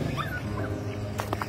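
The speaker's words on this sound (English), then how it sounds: "a little puppy was crying for help." A small puppy trapped in a large woodpile whimpers and cries with a few thin, high rising whines, followed by short sharp yips near the end, heard fairly close.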